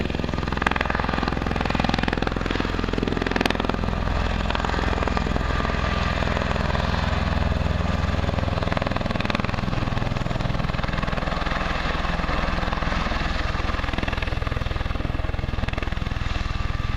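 A V-22 Osprey tiltrotor aircraft with engines running comes in to land at AirVenture 2014, a continuous loud, rumbling engine and rotor drone that holds steady throughout with no talking.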